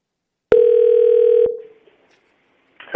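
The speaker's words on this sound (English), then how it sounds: "Can I interrupt to call Ruben right now?" A telephone dial tone hums steadily for about a second and then cuts off. After a short near-silence, the first dialing sounds begin, loud and close with nobody speaking.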